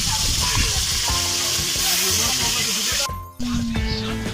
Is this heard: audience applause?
no